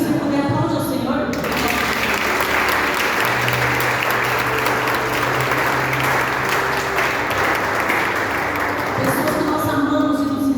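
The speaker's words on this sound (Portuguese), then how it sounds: "Se você puder, aplaude ao Senhor." A congregation at a church service applauds, a loud, sustained wash of clapping that fills the space for about ten seconds, with a voice speaking over it at the start.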